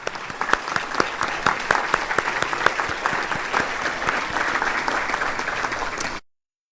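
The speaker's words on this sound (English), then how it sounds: "if you would please stand at this time for a round of applause if you're running for an office at this time" Audience applause for election candidates at a DeLand Area Chamber of Commerce regional event, a steady full round of clapping from a crowd lasting about six seconds before cutting off abruptly.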